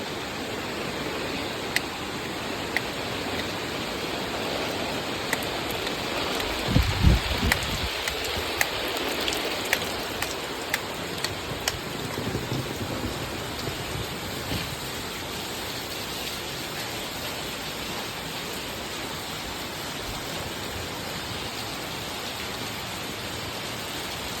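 Heavy monsoon rain in Konkan pours steadily, a dense continuous hiss of water hitting surfaces, with a few louder splashes and thumps near the start.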